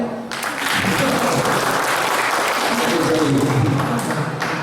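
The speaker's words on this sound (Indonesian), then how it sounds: "Boleh tepuk tangan?" Audience applause at a talk on judges and legal aid, a dense steady clatter of many hands that holds for several seconds with a murmur of voices underneath.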